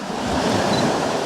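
Sea waves wash steadily onto a shoreline in a broad, continuous roar of surf, with some wind buffeting the microphone and no pauses or voices.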